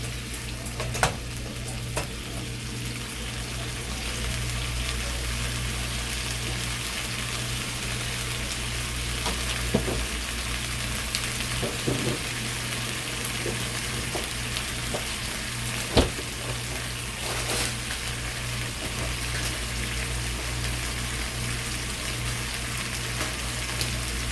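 Salmon steaks frying in a pan, a steady close sizzle and crackle with a constant low hum beneath, broken by a few sharp clicks and taps of utensils.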